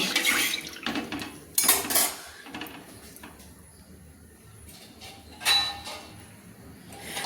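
Eggs lowered one by one into a pot of hot salted water, giving a few clinks and knocks against the metal pot with light splashes, separated by quiet gaps; no talking.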